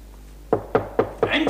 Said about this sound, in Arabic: مين اللي عم يدق الباب